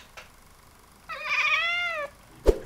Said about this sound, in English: coffee and cat hangout